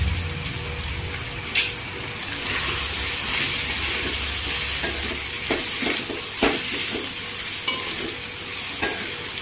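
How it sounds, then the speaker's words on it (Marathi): Cumin, coriander and turmeric powders sautéing in hot oil, a loud, dense sizzle with intermittent scraping and tapping from a stirring spoon throughout, no voices. "छान असं तेलावर परतून घ्यायचं मसाले।"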